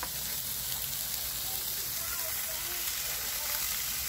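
Diced yellow sweet onion and red and green peppers sizzle with browned beef in a camp skillet, giving a steady close frying hiss. A voice speaks faintly beneath it.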